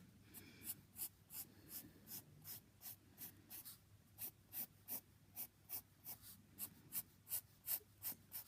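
Pencil drawing on paper, a quiet, close series of short scratchy strokes repeating in a steady rhythm, about twenty in all, with no talking.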